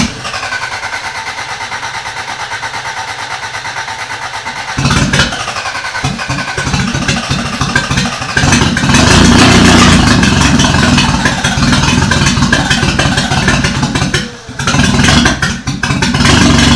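A Toyota Corolla engine, with its distributor timing just reset, cranks and sputters as it tries to catch, a loud, continuous churning that surges and rises in intensity partway through before briefly dropping near the end.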